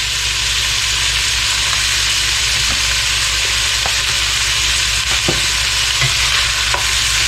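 Onions frying steadily in a pan with salt and pepper for German potato salad, a loud, continuous sizzle throughout with a few faint clicks, no voices.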